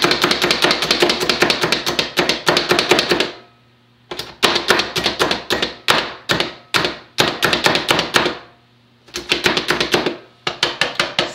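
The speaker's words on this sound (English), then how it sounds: "Now we are going to do the chopping magic." Rapid, rhythmic chopping taps of a food chopper come in bursts of steady strokes, with short pauses between rounds, close and crisp.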